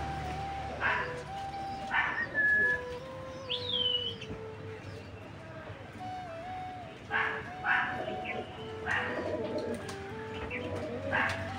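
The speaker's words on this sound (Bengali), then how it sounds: "বেশি লেট না করে চলো বাইরে গিয়ে সবকটা পায়রাকে খেতে দিয়ে দিই" Pigeons at feeding time, with several bursts of cooing and chirping calls coming in groups at moderate distance, plus a faint dog-like bark, over a steady low background hum.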